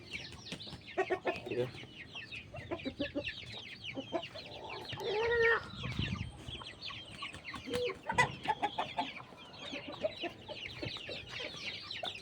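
Hens cluck repeatedly in short, scattered bursts, fairly close, with quiet background rustling and no talk over them.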